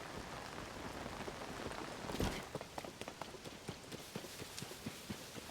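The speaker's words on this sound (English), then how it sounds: "Damn, it's raining." Steady rain falls in The Legend of Zelda: Tears of the Kingdom, a dense hiss of drops with sharper ticks and patters, faintly rumbling underneath, no voices present.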